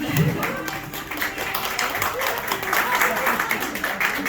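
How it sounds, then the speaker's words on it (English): Audience at a community event in Philadelphia applauds, a few seconds of crowded, uneven hand clapping with voices talking over it throughout. "So we give Tracy a applause."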